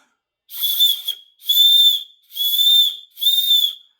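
Four sharp, shrill blasts from a small survival-kit whistle sound in an even rhythm, each about half a second long with brief silences between them.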